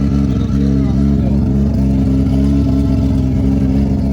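A KZ 1500cc drag racing motorcycle engine with an MTC Stage 2 lockup clutch runs loud and close, a dense, steady low rumble with slight pulsing throughout and no break.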